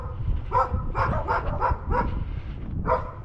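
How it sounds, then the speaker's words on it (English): Small poodles barking outdoors on a street walk in Lewiston, Maine: a string of sharp, fairly close yips and barks in quick irregular bursts, with a whimpery edge. "Little poodle dogs barking at me."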